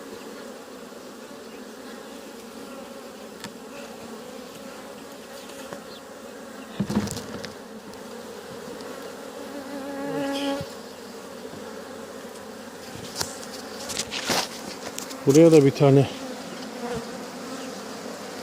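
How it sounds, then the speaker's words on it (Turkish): Bees buzz around close by at an open hive as a new box and foundation comb are added, a steady droning hum with louder passes as individual insects fly near; a voice briefly speaks and a few knocks sound. "Arılar da hemen gelmiş üstünü abartmaya başlamışlar."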